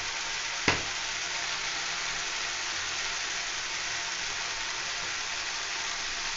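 Katla fish masala with turmeric fries in a pan, a steady even sizzle throughout, with one sharp knock of the stirring spoon near the start, close and alone without talk.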